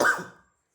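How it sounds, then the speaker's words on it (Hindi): A single short, close cough from a man teaching a coding lesson, sharp at the onset and fading out within half a second. "सॉरी थोड़ा खांसी हो गया।"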